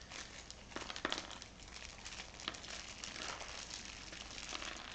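A stubborn plastic bag is wrestled open, giving a steady stream of crinkling and crackling with a few sharper crunches, close up and continuous with no talk.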